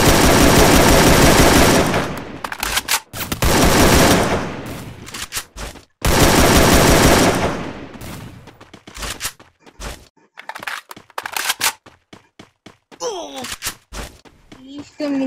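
Rapid automatic gunfire in the Free Fire battle game comes in long, loud sustained bursts, then breaks into scattered single shots and short volleys. Voices are heard among the firing.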